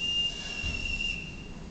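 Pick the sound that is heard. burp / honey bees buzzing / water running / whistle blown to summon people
whistle blown to summon people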